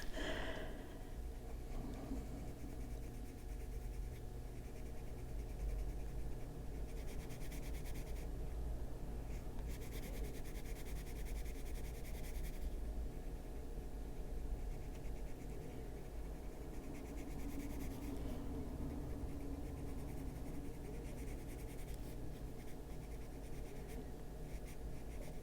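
A coloured pencil scratches steadily across an adult colouring page of a dawn frog, with continuous close rubbing strokes pressing dark detail, low background hum underneath and no talking.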